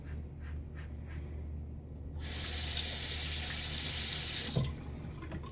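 Tap water running onto a safety razor to rinse off shaving soap lather, a quiet trickle that swells into a steady gushing stream for a few seconds, then cuts off with a small clink.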